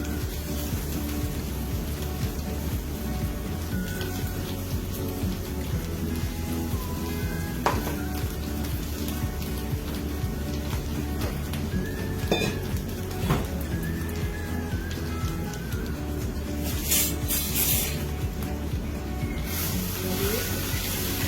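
Spice paste hits a hot pan and sizzles in a steady, moderate hiss with occasional stirring scrapes and sharper crackles, continuing evenly throughout.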